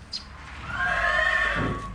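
A young draft horse foal on a farm in Ukraine gives one loud, close neigh lasting about a second. It rises and wavers, and a soft thud comes just before it.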